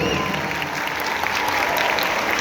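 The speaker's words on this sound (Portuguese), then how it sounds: "Uma salva de palmas à técnica." A church gathering audience claps for the technical crew, a loud, dense, continuous roar of applause from a large crowd filling the whole stretch.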